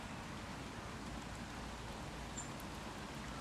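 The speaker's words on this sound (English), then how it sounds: "Can you hear the rain now?" Steady rain falls in a park as a soft, even hiss of drops, continuous and moderately quiet, with no voices.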